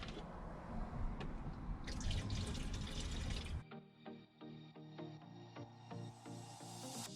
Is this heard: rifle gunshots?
no